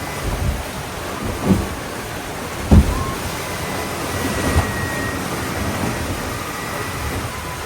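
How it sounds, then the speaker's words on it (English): Big Atlantic Ocean waves at sunrise, heard from a sailboat on a delivery passage from New York to Savannah: a steady broadband wash and wind roar with a few heavier low thumps of water against the hull, no voices. "Some pretty big waves."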